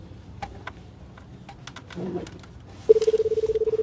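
A phone rings with an incoming call in a quiet domestic scene, a steady pulsing electronic tone starting near the end and running on, loud and alone after some faint background shuffling.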